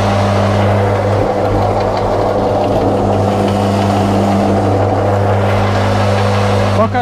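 An electric meat grinder powers up and runs at full power, a loud steady motor hum with a strong low drone that holds unchanged, with no speech over it.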